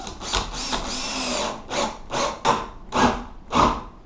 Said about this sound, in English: You want to drill slow at the beginning